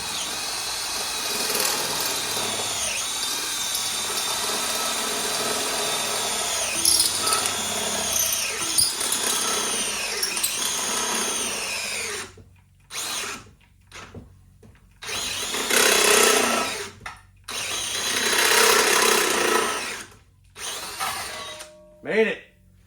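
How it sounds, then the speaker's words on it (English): A step drill bit bores through a metal plate for a Predator 212 engine header setup, a long loud grinding whine with pitch wobbles, then several shorter drilling bursts separated by pauses as the battery weakens. "Little unibit action."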